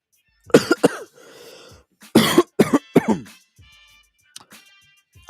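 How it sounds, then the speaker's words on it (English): A person coughs hard in two bouts of several harsh, close coughs, with short quiet breaths in between and a faint throat noise near the end. "I was trying to figure out why the heck am I coughing all crazy"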